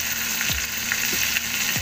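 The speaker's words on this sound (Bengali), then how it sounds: "এইভাবে দেখুন আস্তে আস্তে ভাজা হচ্ছে।" Pointed gourds (potol) fry in hot oil in a pan, a steady close sizzle with a few soft knocks as they are gently turned.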